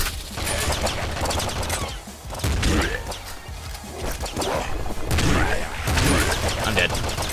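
SMG fire in the Nuclear Throne video game, dense rapid bursts of shots and impacts running almost continuously and loudly, mixed with other game effects.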